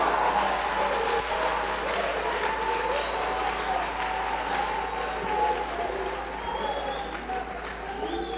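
A church congregation at a youth meeting in Brazzaville applauds for several seconds, a dense steady clatter of clapping with crowd voices mixed in.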